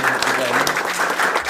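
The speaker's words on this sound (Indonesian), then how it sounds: "Ini tepuk tangan dulu dong buat ibu kita ini." A brief burst of clapping for a guest in a podcast studio, steady and close, with voices talking over it.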